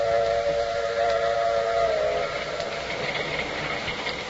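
An old-time radio drama train rolls along with a steady rumbling hiss and a sustained steam-whistle tone that fades partway through, heard alone without voices.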